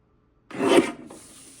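Paper pieces for a handmade album being trimmed, a single short rasping cut of about half a second, close and quiet, followed by a faint fading scrape.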